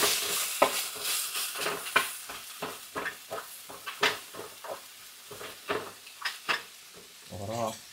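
Green chillies frying in a home kitchen pan give a soft sizzle, broken by repeated scraping and stirring strokes at a steady rhythm.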